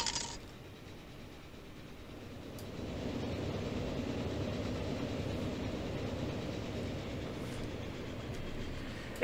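Trains in Transport Fever 2 roll along the tracks with a continuous rumbling clatter. It starts softer and turns fuller and louder after a few seconds, then holds steady with no talk.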